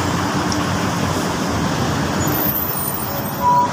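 Busy street traffic rumbles steadily, a dense wash of passing cars and heavier vehicles, with a brief louder swell near the end.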